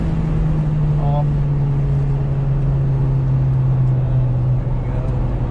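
A car on a warm-up lap around Carolina Motorsports Park, its engine a steady, loud, close drone held throughout with no clear revving changes.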